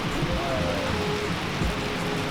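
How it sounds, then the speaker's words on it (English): Rain falls steadily outdoors during a photo shoot, a continuous even patter and hiss heard up close with a faint background hum. "Unfortunately, unplanned, it's raining right now."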